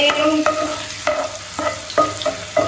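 Vegetables frying in a pan, stirred with a utensil that scrapes and taps the pan every half second or so over a steady sizzle. The sound is close and clear, with no talking.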